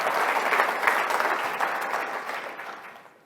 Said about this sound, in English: So let's give Andrew and John Hogue both a round of applause for all the work that they've contributed.